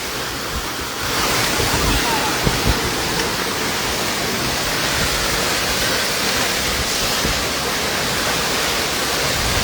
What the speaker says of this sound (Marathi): उंच असा धबधबा अतिशय सुंदर